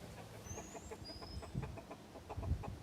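Chickens clucking inside a coop while a rooster calls his hen back, a steady run of short, near clucks over low barnyard rustle, with two thin whistling tones overhead.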